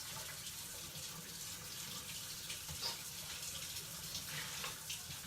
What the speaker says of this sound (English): I literally just lay it in the bottom of my sink and I use a sponge to wash them off